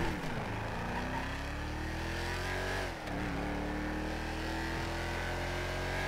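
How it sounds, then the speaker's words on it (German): Mercedes-Benz GLS 63 AMG engine in GTA 5, a steady loud drone that revs upward in rising sweeps with a brief dip midway, alone without talk. "Geiler Sound vom Auto, geiler Sound."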